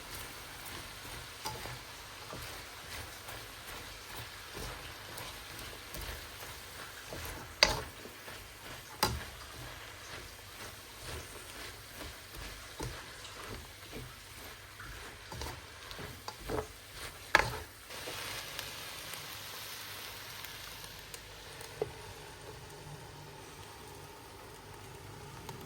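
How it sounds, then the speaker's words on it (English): Shredded cabbage and rice noodles stir-frying in a pan, a soft continuous sizzle with scattered ticks and occasional sharper clinks of stirring, fairly faint and steady. "Now I add my shredded cabbage and allow everything cook down together just for a few minutes."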